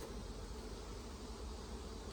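Honey bees at an opened, honey-bound hive that has just been smoked, giving a continuous dense buzzing drone close by, steady and unbroken with no voices.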